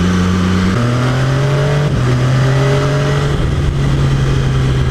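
MV Agusta F3 motorcycle engine revving hard under acceleration, with quick clean upshifts from the quickshifter that drop the pitch in steps, loud and close with no talking.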